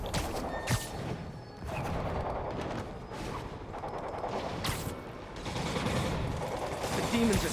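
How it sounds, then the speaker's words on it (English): Gunfire crackles through Marvel's Spider-Man video game, repeated bursts and shots across a chaotic city war zone, sustained and fairly loud with crashes mixed in and speech over it. "I hear gunfire."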